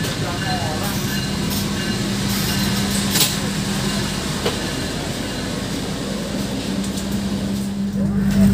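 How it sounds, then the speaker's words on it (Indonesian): Steady rumble and hum from inside a carriage of the moving Argo Parahyangan passenger train, with a constant low drone and faint rattling throughout. "sekarang saya sudah berada di dalam kereta api Argo Parahyangan"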